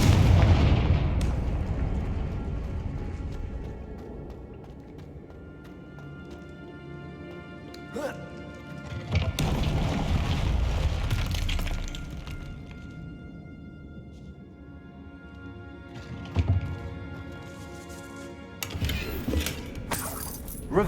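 A Confringo spell explosion in the video game Hogwarts Legacy, heard as several loud booming blasts and crackling bursts over game ambience, with a spoken spell incantation among them.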